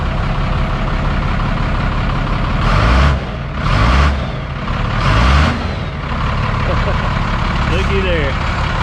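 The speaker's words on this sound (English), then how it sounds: "Rev it up just a hair more." An old 1991 Freightliner FL70 tow truck that has sat for years idles roughly, then its engine revs up loudly in three distinct surges before settling back to idle, with someone speaking over it.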